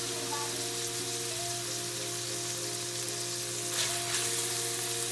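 Onion frying in a pan on a stovetop for Ecuadorian arroz con pollo gives a steady, soft, rain-like sizzle under a low constant hum.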